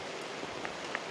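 Rain falling in Thiruvananthapuram, a faint, steady wash of drizzle with a couple of light drip ticks, distant and quiet, with no voices.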